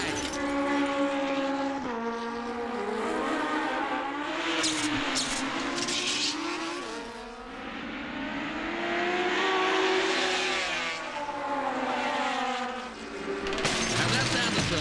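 Racing motorbikes scream down a straight at high speed, their engines whining and shifting pitch as they pass, heard under continuous excited commentary.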